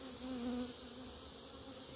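Honeybees buzz at an open hive with medium brood boxes, a steady continuous drone that swells briefly and holds close and even throughout, with no talking.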